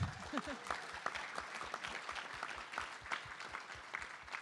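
Audience clapping at a panel event on renewable energy in cities: individual claps stand out clearly at a fairly regular rhythm, a modest crowd rather than a roaring ovation, continuing for about four seconds.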